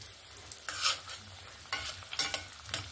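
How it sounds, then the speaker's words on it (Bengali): Four chops fry in medium-hot oil with a soft, close sizzle, broken by a few louder bursts of spattering and stirring, no voices. "এরকম 4টা করে আমি ভেজে নেব।"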